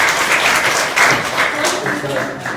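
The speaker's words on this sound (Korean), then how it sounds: "다시 한번 두 분에게 큰 박수 부탁드리겠습니다" Applause from a lecture audience at the close of a public talk in a Korean seminar hall, a steady broad patter of clapping lasting throughout with voices mixed in.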